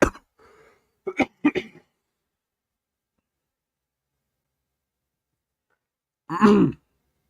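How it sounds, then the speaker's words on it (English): A single harsh cough near the end, after a few short throaty sounds at the start and a long stretch of silence. "Damn it, I have a cough."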